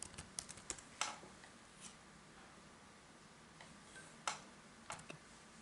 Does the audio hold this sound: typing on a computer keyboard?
yes